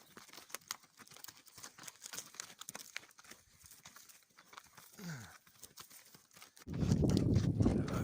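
Horse hooves clip-clop in a steady rhythm during a ride in Kyrgyzstan, light repeated thuds on rough ground, with a loud rushing wind or rumble near the end.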